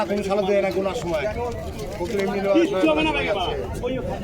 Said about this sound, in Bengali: এই যে বড় ভাই খুব খাঁচা কবুতর নিয়ে এসছে বেলডাঙ্গা হাটে